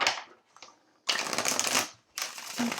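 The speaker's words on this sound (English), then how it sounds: "I'm going to just clean up these cards and shuffle" Tarot cards are shuffled by hand in two or three quick riffling bursts of papery flutter, close and crisp, separated by short quiet gaps.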